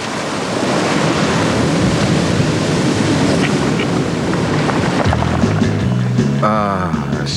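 Ocean surf and wind roar steadily at a Sydney beach, loud and continuous, with a few faint voices and other sounds rising near the end.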